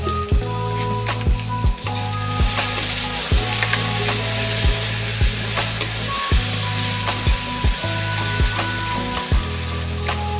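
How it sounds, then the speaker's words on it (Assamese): Chopped tomatoes with salt fry in a hot pan, a steady loud sizzle broken by regular scraping strokes of a spoon stirring them, with no voices. "এতিয়া বিলাহীখিনি মই ভাজি ল'ম"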